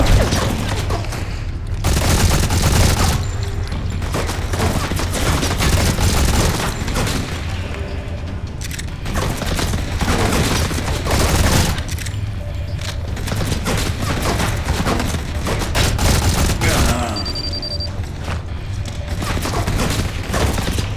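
Dense gunfire and explosions in the Modern Combat 4: Zero Hour mobile shooter, with rapid machine-gun bursts and heavy booms layered into a constant loud barrage, plus brief background voices.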